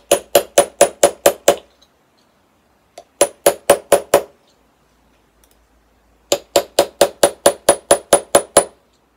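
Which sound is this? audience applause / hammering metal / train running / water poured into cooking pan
hammering metal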